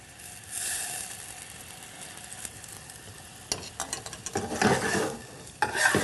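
White wine and lemon juice poured over shallots in a hot pan, starting with quiet stirring and scraping, then bursting into loud, crackling sizzles that swell and hiss in waves near the end.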